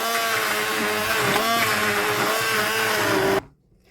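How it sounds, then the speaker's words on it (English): A handheld stick blender whirs through a pot of homemade soup, a loud continuous motor drone that holds steady for several seconds and then cuts off abruptly into near silence. "We're going to get the handy stick blender out"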